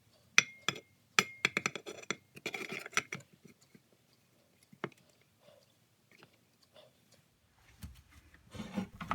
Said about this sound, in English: here I'm reinstalling the armature with some fresh grease